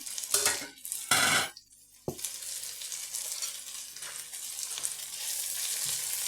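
Vegetables sautéing for kottu roti in a hot pan, with a steady sizzle throughout and a few sharp metallic clanks and scrapes of a utensil near the start.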